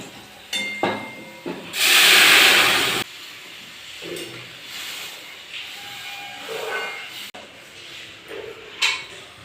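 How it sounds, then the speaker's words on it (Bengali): Lentils (dal) poured into a hot frying pan set off a sudden loud hissing sizzle lasting about a second, followed by quieter kitchen clatter and scattered clinks. "দেখো লাল লাল করে ভাজা হয়ে গেল, এবার ডালটা আমি"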